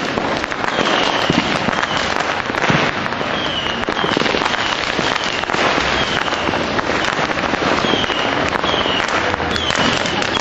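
Dense, continuous crackling and popping of fireworks and firecrackers fill a New Year's street celebration in Callao, Peru, loud and close with no pauses.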